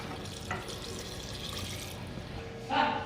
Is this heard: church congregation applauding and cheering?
no